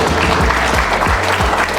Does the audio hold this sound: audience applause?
yes